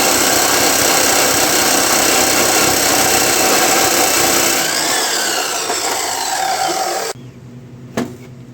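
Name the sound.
chop saw cutting heavy metal stock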